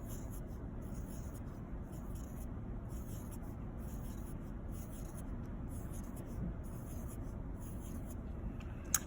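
Marker or pen drawing small circles on paper, sketching circle sprinkles onto a paper cupcake: a steady, close scratchy rubbing that repeats in short strokes, alone without talk.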